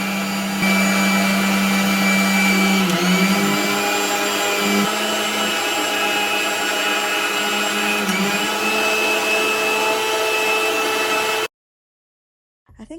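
A VTCL blender runs on its highest speed, setting 3, grinding with a steady loud motor whine that holds for about eleven seconds before cutting off abruptly.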